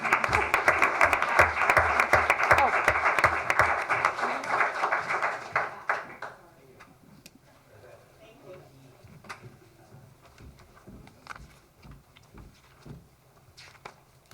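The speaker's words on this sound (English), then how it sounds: "you can have a round of applause" Loud applause from a crowd at a town council meeting fills the first several seconds, then fades to scattered claps and faint room noise.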